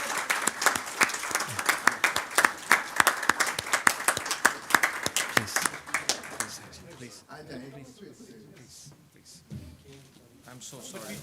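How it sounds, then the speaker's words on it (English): A crowd at a Dubai global networking event claps in loud, scattered bursts for several seconds, then the applause thins out as a voice speaks over the fading claps. "please clap with the top of your hearts for this amazing man"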